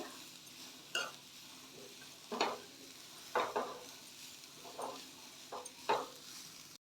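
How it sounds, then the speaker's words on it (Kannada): Carrots frying in ghee in a pan for carrot halwa, a soft continuous sizzle under several sharper scrapes and stirring knocks of a spoon against the pan, spaced irregularly and fairly quiet, with no talking. "ಕ್ಯಾರೆಟ್ನ ಈ ಥರ ತುಪ್ಪದಲ್ಲೇ ಫ್ರೈ ಮಾಡಬೇಕು"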